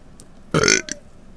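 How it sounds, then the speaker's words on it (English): A single short, loud burp, throaty and resonant, standing alone against a quiet background. "yes, I burped."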